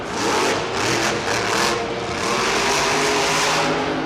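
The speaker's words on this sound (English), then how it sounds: "Gotta love the sound of this truck too." A Monster Jam monster truck engine at a stadium event roars and revs loudly and continuously, with surging pulses of throttle under a dense crowd-like wash.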